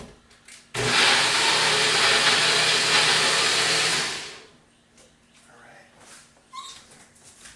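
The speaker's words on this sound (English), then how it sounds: "So now, I'm going to put this in the blender. It is a NutriBullet." A NutriBullet blender whirs loudly and steadily for about three and a half seconds while blending a green smoothie, then cuts off, leaving faint rustling and handling noises.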